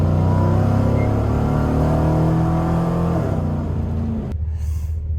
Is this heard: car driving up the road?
yes